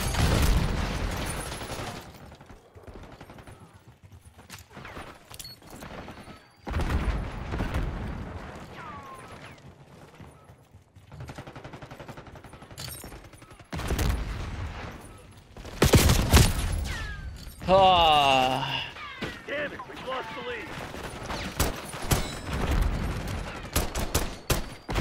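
Makarov pistol gunfire in Call of Duty: Black Ops 6 multiplayer, with repeated sharp bursts of shots and explosions across the stretch, loud and close, mixed with other weapon fire and game effects.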